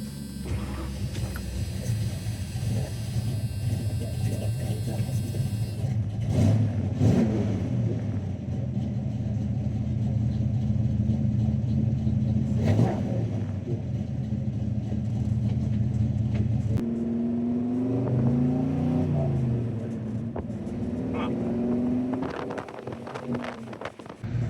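A 1981 Mercury Capri, freshly tuned for the street, rumbles steadily while driving, its engine drone loud and close with pitch rising and falling through revs and gear changes, no talking.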